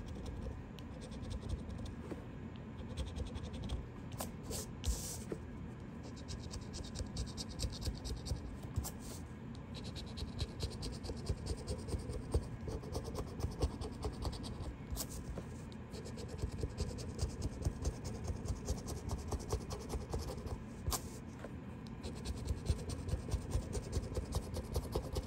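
Steady, close scratching of a California lottery scratcher ticket, a continuous rasping scrape with small bursts and pauses over about 25 seconds, with no talk.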